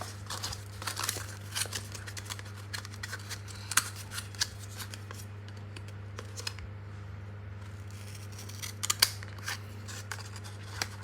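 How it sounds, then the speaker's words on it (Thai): Scissors snip through paper or a flower-shaped craft piece in a children's handmade toy project, a series of faint, crisp cuts and crinkles spread over a steady low background hum, with no talking. "ให้เรานะคะใช้กรรไกรในการตัดนะคะ"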